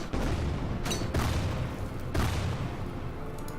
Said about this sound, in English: You can fire a mortar at these guys.